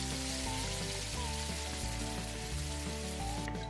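Chili sauce poured into hot oil left from frying peanuts sizzles steadily in the pan, a dense crackling hiss heard close and continuous, with a low hum underneath.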